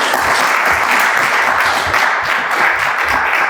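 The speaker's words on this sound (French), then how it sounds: "je crois qu'on peut les applaudir" A crowd applauding continuously at a round-table event, dense and fairly loud, with the clapping holding steady throughout and no one speaking over it.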